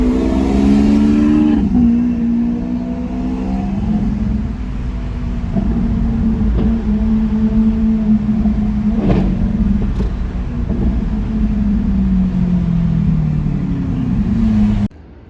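A Ferrari 599's engine revs loudly nearby, its deep, throaty roar rising and falling over several throttle blips before cutting off abruptly.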